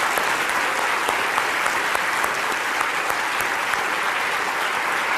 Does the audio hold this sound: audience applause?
yes